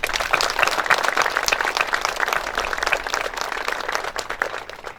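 Applause from the audience at an elementary school building dedication and ribbon cutting ceremony, a steady, dense wash of many hands clapping that holds for the whole span, close and loud, with no talk.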